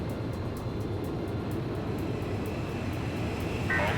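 Engine of a massive transport plane in the Ace Combat 5 video game, a steady, continuous drone holding at even loudness throughout, with no voices.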